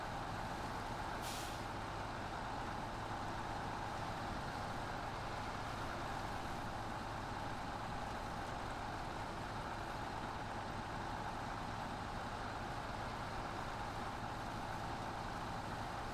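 A truck drives along curves in fifth gear, its engine a steady, loud drone throughout with a brief hiss of air early on, and no talk.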